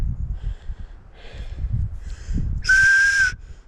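A short, clear, high whistle is blown across an old .308 rifle shell casing outdoors on a backcountry hike, following soft rustling and handling noises.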